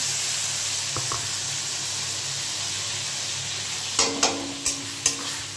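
Potatoes and spices sautéing in hot oil for a Bengali fish curry give a steady, close sizzle, with a few sharp spatula clinks against the pan near the end.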